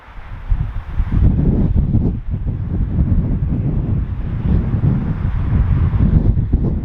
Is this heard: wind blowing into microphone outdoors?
yes